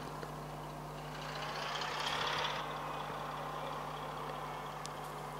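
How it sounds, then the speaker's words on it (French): A truck backing up in the Cargo Transport Simulator video game, a steady electronic reversing beep repeating over a low idling engine drone, with a brief hiss of air swelling partway through. "Le gars il fait la marche arrière comme si que ça faisait 40 ans qu'il l'avait fait"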